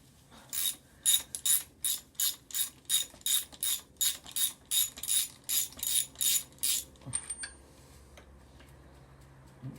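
A thread tap being wound back out of a Yamaha Virago spark plug hole makes about fifteen evenly spaced ratcheting clicks, close and crisp, which then stop, leaving a quiet workshop background.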